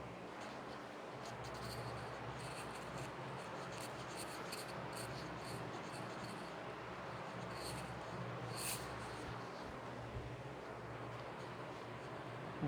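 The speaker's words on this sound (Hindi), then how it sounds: "मैं रब करके लिख देता हूँ।" Marker or chalk rubs and scratches across a classroom board in steady, faint strokes, erasing and then writing, with a continuous soft hiss beneath and no talking.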